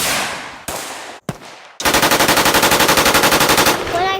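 Automatic gunfire rings out as a loud, fast, evenly spaced burst of shots lasting about two seconds, following a few separate single bangs with short gaps between them.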